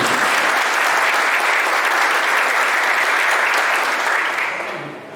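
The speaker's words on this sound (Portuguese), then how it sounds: "Salva de palmas para a Vanessa" An audience at a training event bursts into loud, sustained applause, a dense, even clapping that carries for several seconds before fading toward the end.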